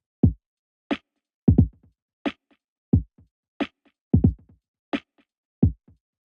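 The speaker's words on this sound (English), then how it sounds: "We'll use the space to give it a touch of depth with a little echo." Lofi drum loop with an echo effect, sparse kicks and snappy hits in a steady pattern, each followed by faint decaying repeats, heard alone and dry otherwise.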